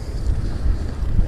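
Wind buffets the microphone on a fixed-gear bike ride in Benicia, California, a loud continuous low rumble with gusty swells and no talk.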